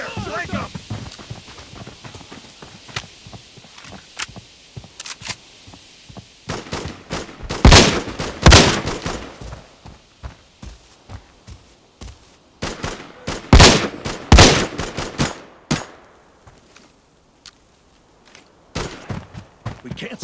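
Bursts of automatic and single gunfire crack in a firefight in the shooter game Arena Breakout, sparse sporadic shots giving way to loud rapid volleys, pausing and returning in clustered bursts.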